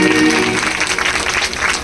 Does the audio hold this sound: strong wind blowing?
no